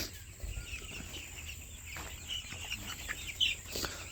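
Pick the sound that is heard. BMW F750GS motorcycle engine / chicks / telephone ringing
chicks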